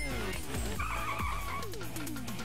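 Car tires skid and squeal in Sonic Generations, sliding tonal screeches over a rumbling engine and game effects, loud and close, with a brief burst of high squeal mid-clip.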